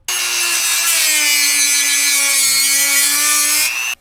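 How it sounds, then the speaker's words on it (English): A Dremel rotary tool with a cut-off disc grinds through tough PVC while building a skateboard wheel-well tool. It gives a loud, steady high whine lasting nearly four seconds, with a slight dip in pitch as the disc bites, and stops abruptly. "we're going Dremel, cut off disc. PVC's tough"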